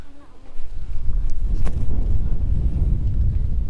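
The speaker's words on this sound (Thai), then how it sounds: "ลมแรงมาก" Strong wind blows outdoors at a Buddhist temple in Phayao where candles are being lit, a loud, steady broadband rush buffeting the microphone with a few faint sounds on top.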